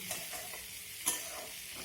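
Cauliflower leaves and garlic stir-fried in a pan give a steady, close hiss of frying, with soft stirring scrapes and one sharper scrape partway through. No one speaks.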